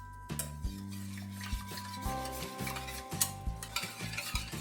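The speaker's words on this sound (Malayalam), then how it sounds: "അല്ലാതെ ഒന്ന് മിക്സ് ചെയ്തെടുക്കുകയാണ് ചെയ്യുന്നത്" Tender coconut pudding mixture being stirred smooth in a pot, soft rubbing and scraping strokes recurring in an uneven rhythm, close and faint beneath sustained low background tones, with no talking.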